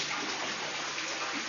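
A steady, close trickle and wash of a low-flowing stream fed by groundwater seeping through rock runs without pause during a drought, quiet and with no voices.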